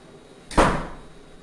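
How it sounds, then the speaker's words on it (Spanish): A door is pushed shut in an indoor room, making a single dull thud with a brief rattling decay, alone against quiet background. "Voy a cerrar una puerta, permítanme."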